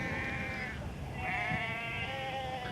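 Sheep bleat faintly at a distance over open grazing ground, two wavering calls drawn out against a steady background hiss of wind.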